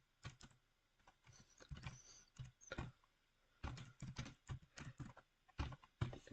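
Quick bursts of typing on a computer keyboard while entering text into a record cover design, close and clear, arriving in clustered runs of keystrokes separated by short pauses, with no voices.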